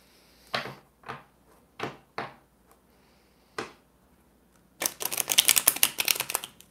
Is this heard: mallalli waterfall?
no